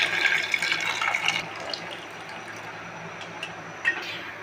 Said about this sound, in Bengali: যে মাছটা আমি কষিয়ে নিয়েছি, এখন পানি দিয়ে দেব।